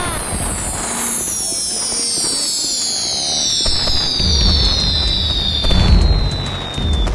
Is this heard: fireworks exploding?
yes